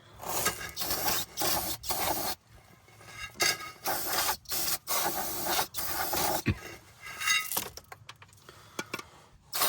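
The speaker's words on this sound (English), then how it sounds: "go ahead and throw the rotor back on with a little brake clean, and clean it off on the inside for the parking brake" Brake cleaner sprays in repeated hissing bursts of a second or so onto a brake rotor on a 2017 Subaru Impreza, close and loud, with rubbing and wiping between sprays.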